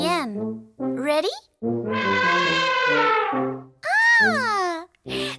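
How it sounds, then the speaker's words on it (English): A big elephant trumpets from its long trunk in several separate bursts. The sliding calls rise and fall, with one long, even blare in the middle, loud and close with short silences between them. "An elephant."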